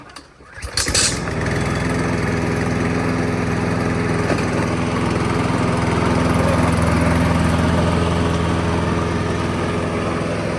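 A Briggs & Stratton lawn mower engine catches after a brief start-up sputter and then runs steadily at a loud, even idle for about ten seconds, close to the microphone with no talking.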